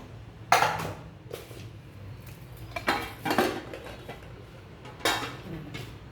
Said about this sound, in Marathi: तुम्हाला दाखवतो तसा फटाफट खिसून घ्यायचा.